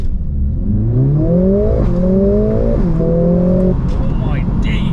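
A Mercedes-AMG A45 S launches hard in race-start mode, its engine rising in pitch through several quick gear changes, loud and close from inside the cabin with a continuous roar underneath.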